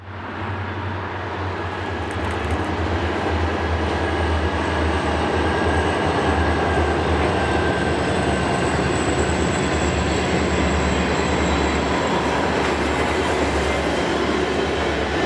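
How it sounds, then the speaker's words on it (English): Westbound BNSF trackage rights local freight with vintage locomotives rolling past near Parachute, Colorado, a loud, steady rumble of engines and rolling cars lasting throughout, no voices. "a BNSF trackage rights local stopped us heading westbound"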